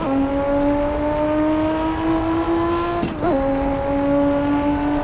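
A high-revving Lotus Evora GT430 engine in a racing video game drones steadily with a brief pitch dip and shift partway through, loud and close, with no voices.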